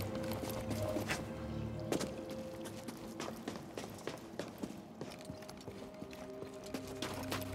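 Hooves clop and stomp in Star Wars Jedi: Fallen Order, a cluster of irregular thuds over a quiet ambient game background with tonal hums, faint and fairly distant.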